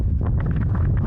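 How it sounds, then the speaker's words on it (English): Strong wind buffets the microphone out on a frozen lake with breaking ice, a steady low rumble with gusty fluttering bursts, no talking. "Oh, it's so windy"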